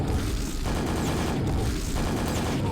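Nail gun fire in Quake: Scourge of Armagon, aimed at a shambler: a dense, continuous rattling barrage that runs loud and unbroken through the whole stretch, with no talk over it.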